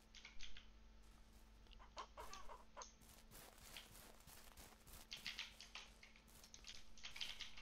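Chickens cluck and squawk in bursts on a Ranch Simulator farm, a few close birds over a steady low game hum, with brief sharper calls scattered throughout.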